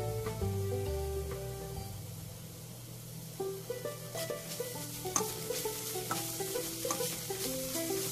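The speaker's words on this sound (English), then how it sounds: "Give it a nice mix and again cook for a minute." Broccoli paratha stuffing with chopped green chilies being stirred in a pan, a steady low sizzle under light scraping and clinking of the spoon, with sharper taps growing more frequent in the second half.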